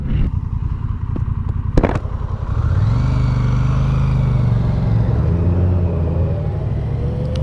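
Honda Goldwing 2021 touring motorcycle on the road, its engine giving a steady, loud, smooth drone that rises in pitch as the bike accelerates, with a couple of sharp knocks near the start and continuous wind rumble throughout.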